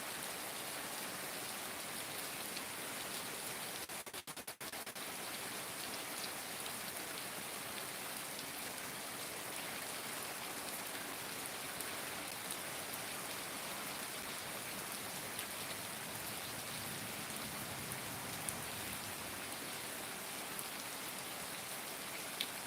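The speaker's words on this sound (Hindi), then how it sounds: "लाइव वरसाद चालू वरसाद चालू लाइव" Steady rain falls without pause, making a dense, even hiss that stays loud and unbroken throughout, with no voices.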